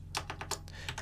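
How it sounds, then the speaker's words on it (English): Keys clatter on a computer keyboard as a short label is typed, about eight quick, fairly even keystrokes close to the microphone with a low steady hum beneath and no talking. "Just by clicking in that little box and then typing a label"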